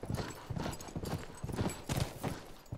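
Horse hooves clip-clop in a steady, brisk rhythm across The Last of Us Remastered, close and fairly loud, with an occasional faint whinny mixed in.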